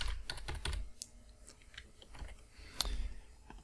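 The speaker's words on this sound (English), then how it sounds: "and type in Bitcoin news." Someone types on a computer keyboard, producing quick, irregular bursts of close, crisp key clicks with brief pauses, at a fairly quiet level.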